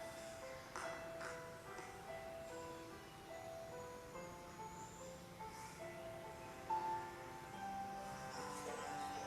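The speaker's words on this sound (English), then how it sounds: "That's my phone. Okay. Oh, I thought, what a nice ringtone." A melodic mobile phone ringtone chimes through a quiet room during a tai chi session, a steady run of bright tones repeating at moderate volume with no talk over it.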